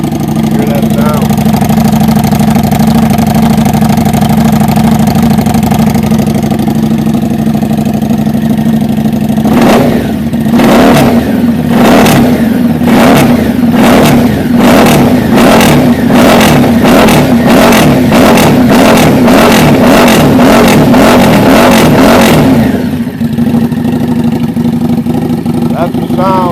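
A 2015 Harley-Davidson Street 750 motorcycle idles loudly close by, then its engine is blipped in a rapid series of about a dozen sharp revs before settling back to a steady idle.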